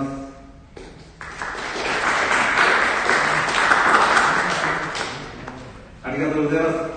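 A crowd at a political party's founding convention breaks into sustained applause of approval for several seconds, clapping loud and dense, with a voice speaking briefly before and after.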